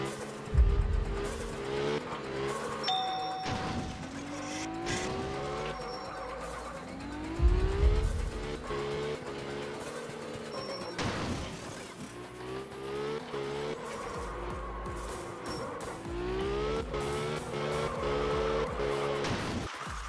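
A drifting car in Absolute Drift, engine revving up and down through repeated gear sweeps with tire squeals and skids, loud and continuous with a few sharp impacts.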